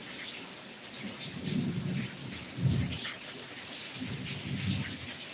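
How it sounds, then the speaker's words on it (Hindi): Low rolling rumbles of thunder swell and fade over a constant hiss of heavy rain, one louder crack near the middle. "देखो कितना बिजली गर्जा थे। बारिश में फंस गया"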